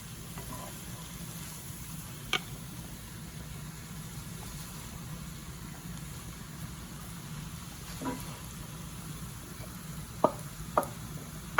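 Shredded cabbage fries gently in butter in a pan, a faint steady sizzle with a few soft clicks and scrapes from stirring, quiet and without speech.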